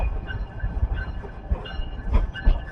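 A train arrives at Torrington station in Connecticut on its first run in 68 years, a low rumbling roll with soft rhythmic clacks and faint squeals, steady and fairly close.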